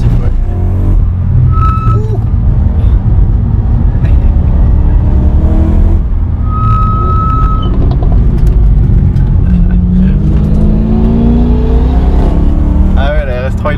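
Audi RS3 and BMW M3 cars driving on a race track during a Pirelli PZero driving event, engines droning loudly and steadily with rising revs and brief tonal squeals, while people talk over the noise.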